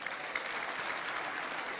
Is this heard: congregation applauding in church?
yes